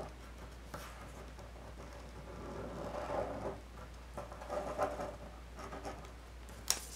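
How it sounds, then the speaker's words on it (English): A pen traces around the edge of a faux fur piece for plush making, giving faint soft scratching strokes against a low steady hum, close and quiet with no talk. "So I'm just gonna trace my fur piece."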